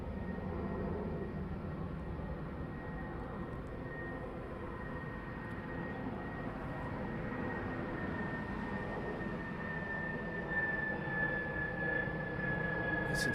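Jet engines of an airliner on a go-around at East Midlands Airport at night, a deep continuous roar that builds slightly louder toward the end, with a rising whine layered on top.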